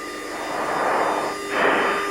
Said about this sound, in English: Afterburner.